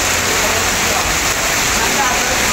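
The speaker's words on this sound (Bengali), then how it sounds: "প্রচণ্ড মেঘ আকাশে এবং মোটামুটি বৃষ্টিপাত হচ্ছে" Heavy monsoon rain pours steadily under a dark, cloud-filled sky, a dense continuous wash of hiss and patter with no breaks, loud and close.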